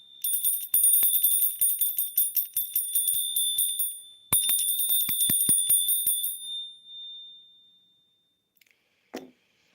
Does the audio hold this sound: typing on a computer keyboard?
no